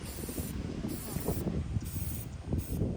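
Aerosol spray paint hissing onto the underside of wooden bench rails outdoors, close and steady in several short bursts with brief gaps between them.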